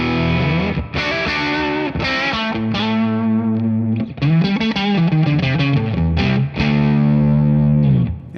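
Distorted electric guitar played through a 44-watt Suhr Bella amp capture, with sustained chords and riffs and slightly more headroom and less gain, loud and continuous with no talking.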